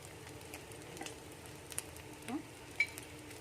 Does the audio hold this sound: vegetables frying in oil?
yes